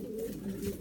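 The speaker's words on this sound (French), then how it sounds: "Le premier aujourd'hui c'est le pigeon qui est là-bas tout en haut" A pigeon in a straw-lined pigeon loft gives a soft, close, low cooing call that lasts under a second.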